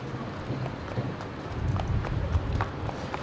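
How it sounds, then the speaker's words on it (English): Horses are unloaded from airport stalls, hooves clip-clopping in scattered uneven steps over a constant loud hangar hum. "let them dismantle the stalls and get the horses out"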